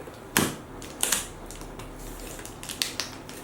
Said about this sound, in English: So I need to cut the sides.